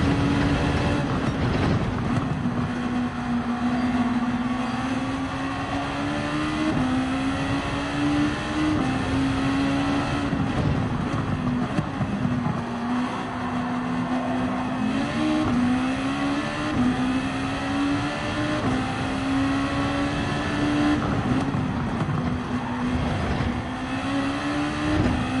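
Race car engines in Gran Turismo 7, among them a BMW, drone and rev steadily through a C-rank race, one loud engine note rising and falling with shifts across the whole stretch, with no talk over it.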